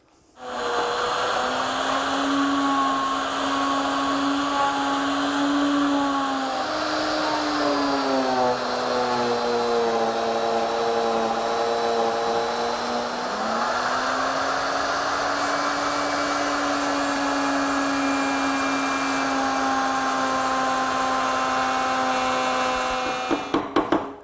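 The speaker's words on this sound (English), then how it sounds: "With the same straight bit, I'm going to plow out the majority of that dovetail joint" Router fitted with a straight bit plowing a dovetail slot in wood, a loud continuous high whine whose pitch dips and shifts as the cut loads and eases, running steadily before spinning down at the end.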